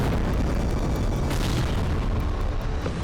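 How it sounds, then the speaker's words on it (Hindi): A powerful explosion blast fills the whole stretch as a loud, dense, rolling roar that barely varies in level. No voices are heard. "चारों तरफ अंधेरा और इसी बीच एक जोरदार ब्लास्ट"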